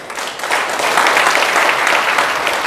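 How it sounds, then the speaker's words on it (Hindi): An audience claps loudly for two uplines at a Vestige training session, a dense, sustained burst of applause filling the room without pause. "दोनों के लिए एक बार जोरदार ताली बजा दो।"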